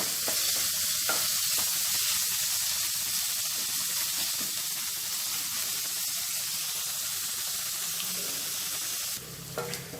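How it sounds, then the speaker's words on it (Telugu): Curry leaves frying in hot oil in a pan for a spicy Maggi dish make a steady, loud, close sizzling hiss that runs throughout and drops off abruptly near the end. "అలాగే ఇప్పుడు కరివేపాకు కూడా వేసేసుకున్నాము వేసుకొని వీటిని కొద్దిసేపు ఫ్రై చేసుకోవాలి"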